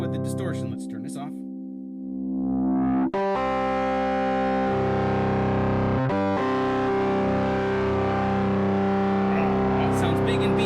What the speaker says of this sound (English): Now, what does this sound like with the distortion?